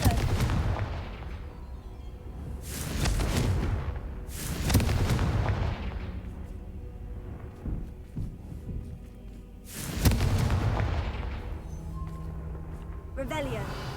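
Repeated Confringo fire-blast spells from Hogwarts Legacy, heavy booming bursts in a loose rhythm, several strong blasts with decaying rumble between them, a voice calling out over the gameplay.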